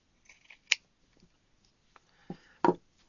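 Scissors cut fabric pieces in half for sewing heels, giving a few sharp close snips with short crunchy bursts between quiet pauses.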